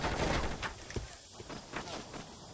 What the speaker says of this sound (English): I haven't even gotten to the guy yet, and they're already shooting at me.